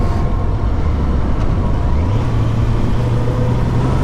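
A new motorcycle ridden in second gear on the road, a loud steady engine drone with rushing wind noise and a pitch that rises gradually as it accelerates.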